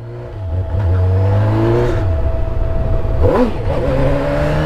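A Honda Hornet motorcycle engine revs hard and holds high during a wheelie, its pitch rising and dipping as the throttle changes, loud and close with no talking.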